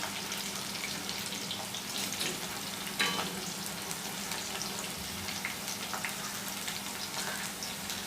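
Thick plantain slices deep-fry in oil with a dense, steady crackling sizzle that holds throughout, plus a faint low hum underneath.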